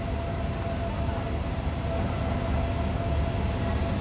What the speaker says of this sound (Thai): กำลังถอยขบวนเข้ามาเทียบในชานชาลาที่4ของสถานีกรุงเทพ